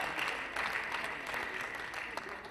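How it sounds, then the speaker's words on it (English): Steady applause from a seated audience at a university convocation lecture, a dense continuous patter of clapping hands that holds evenly at moderate volume throughout. "Please give him a round of applause"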